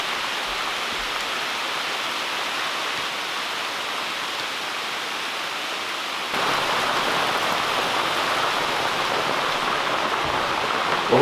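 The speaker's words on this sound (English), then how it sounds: "Holy smokes, look at that rain." Heavy rain pours down outside a log cabin in the Alaskan wilderness, a dense, steady hiss that grows louder partway through, with no voices.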